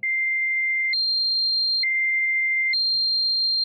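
High pure sine tones an octave apart alternate twice, each held about a second: a thin, steady whistle-like pitch jumping up then back down, clear and isolated, with only a faint murmur near the end.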